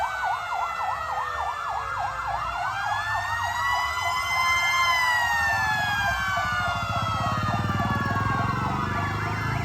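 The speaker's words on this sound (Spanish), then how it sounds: "pasan recorriendo el pueblo con buses y con luces y con carros y con sirenas que suenan durante horas y horas." Several emergency vehicle sirens wailing through the streets of Tulum, overlapping rising and falling tones sounding close and loud over the low rumble of passing traffic.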